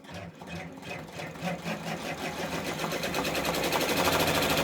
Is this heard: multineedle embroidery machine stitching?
yes